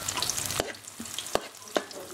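Onions sizzle in a hot pan while being sautéed for Bicol-style chicken dinuguan, a steady crackling fry broken by a few sharp clanks of a utensil stirring, close and with no talking.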